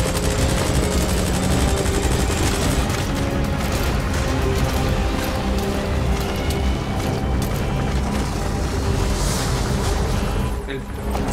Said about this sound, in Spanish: puto helicóptero.